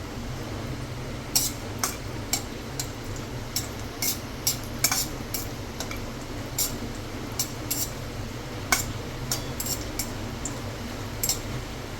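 Pieces of dry coconut scrape and rattle in a pan as they're roasted and stirred, with repeated light clinks of a spoon against metal over a steady low background hum.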